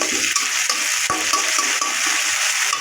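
Ginger-garlic paste sizzles steadily in a hot pan for a fish and eggplant curry, a continuous bright hiss with faint stirring scrapes and no talking.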